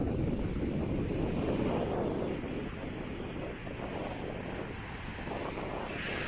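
Steady ocean surf and wind roar along Ipanema Beach in Rio de Janeiro, Brazil, a continuous broadband wash with the wind buffeting the microphone throughout and no voices.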